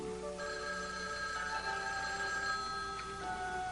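A telephone bell rings in an indoor drama scene, a continuous electronic trill that sounds faint and steady under a soft room background, with no talking over it.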